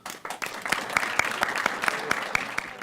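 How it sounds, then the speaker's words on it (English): Audience applause for graduates at a graduation ceremony, a dense crowd of clapping hands rising quickly and holding steady, with no talk. "Let's give them another round of applause"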